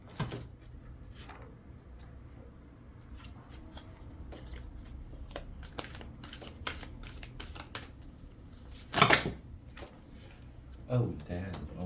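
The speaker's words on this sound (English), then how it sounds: "I'm gonna take the fairy cards and shuffle." A deck of tarot cards riffles and slaps together in quick rustling bursts, close and soft, with a louder flutter near the end.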